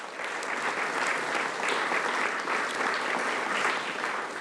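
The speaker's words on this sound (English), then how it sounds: "You can applaud that." Audience applause at a 2022 annual volunteer recognition ceremony, a full, even wash of clapping from a large crowd that holds steady throughout.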